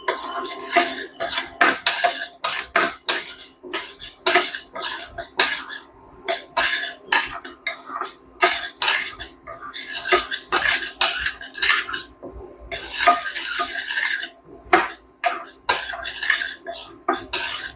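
Toor dal being dry roasted in a pan over medium heat, a spoon scraping and clattering against the metal in a steady stream of rattling strokes, close and fairly loud throughout, with no talking.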